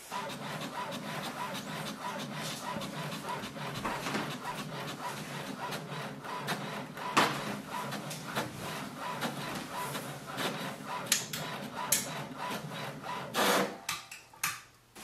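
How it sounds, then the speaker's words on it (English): An HP Smart Tank 5102 printer prints its welcome page with a continuous close-up rasping, rubbing feed sound broken by sharp mechanical clicks and knocks near the end. "So we can see it has just printed."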